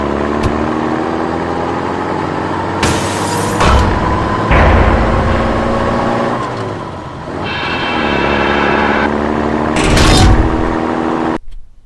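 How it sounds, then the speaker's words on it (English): A truck-chase scene from Indiana Jones and the Raiders of the Lost Ark plays out as a loud, continuous heavy engine drone with shifting pitch, broken by sharp crashes and bursts of impact noise before cutting off abruptly. "I've used a clip from Indiana Jones and the Raiders of the Lost Ark where Indy is trying to recover the Ark from a truck"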